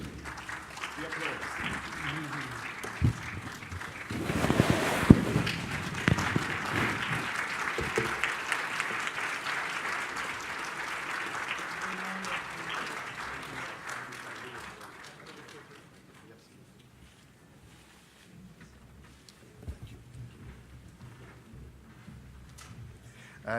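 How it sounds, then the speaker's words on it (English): Audience applause at the opening plenary of the African Continental Free Trade Area business forum, a sustained wash of many hands clapping for about fifteen seconds before fading to quiet room noise, with a voice speaking over it. "Please rise and acknowledge the applause."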